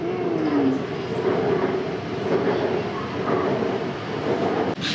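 A train rumbles steadily nearby, a broad constant roar with faint rhythmic clatter, heard from inside or close beside the carriage.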